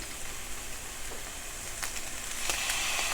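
Minced garlic sizzles in a pan while meat sauce is being made, a soft steady frying hiss that holds at low level and swells slightly toward the end.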